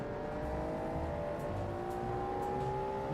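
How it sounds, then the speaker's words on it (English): A four-wheel or all-wheel drive car engine revving in a racing video game, a loud sustained whine that climbs steadily in pitch through the gears with no pauses. "They probably could have turned the engine sounds off."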